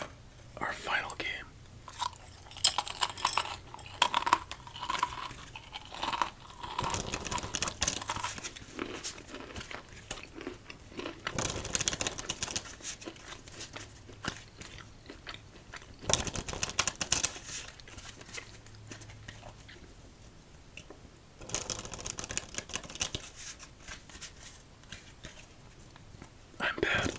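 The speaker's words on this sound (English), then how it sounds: "let's give this deck 5 shuffles and begin our final game" A deck of playing cards is shuffled several times during an ASMR solitaire session. The close, crisp riffling bursts recur at intervals, with whispered talk and snack crunching in between.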